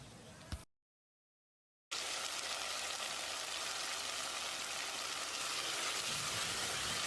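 Tomatoes with turmeric simmer in a pan for a village-style curry leaf chicken curry, giving a continuous soft sizzling hiss that starts after a brief moment of silence.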